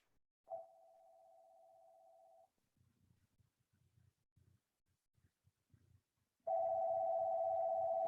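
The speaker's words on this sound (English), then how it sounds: "I was hearing the phone in the background." A telephone rings in the background during a symposium talk: a steady electronic tone sounds for about two seconds, then low muffled voices, then a louder sustained ring returns near the end.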